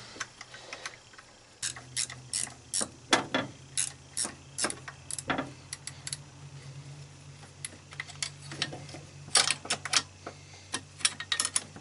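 Rapid ratchet clicks come in short bursts while a bolt is tightened on the engine of a 2003 Honda Civic during a head gasket replacement. The clicking sits close and fairly loud over a steady low hum, with no talking.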